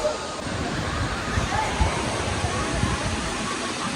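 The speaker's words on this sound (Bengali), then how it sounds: "কত উঁচু থেকে যে পানি পড়তেছে।" A waterfall on the Napittachhara trail drops from a great height, making a loud, steady roar of rushing water that fills the scene without pause.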